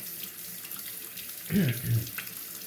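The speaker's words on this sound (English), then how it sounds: "Wet the Coticule with the Slurry stone." Water being run or poured to wet a Coticule razor hone and slurry stone, a brief splashing trickle lasting under a second, close and moderately loud against a quiet room.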